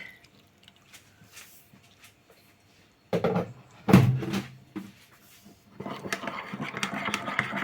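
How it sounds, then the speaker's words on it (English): Water poured onto gravy granules and stirred together, giving soft liquid sloshing and scraping bursts in the second half, with a sharper knock near the middle, close and moderately loud. "So mixing up the gravy granules."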